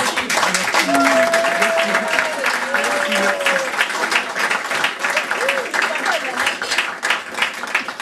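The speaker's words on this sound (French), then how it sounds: "j'aimerais que vous vous applaudissiez très fort" An audience at a Portuguese cultural association event applauds, with dense sustained clapping and some cheers and whistles mixed in.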